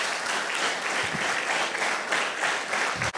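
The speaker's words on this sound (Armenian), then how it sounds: "եկեք ծափարենք մեր Աստծուն" A congregation at an evening church worship service breaks into warm, sustained clapping, a thick wash of many hands at steady volume that tapers near the end.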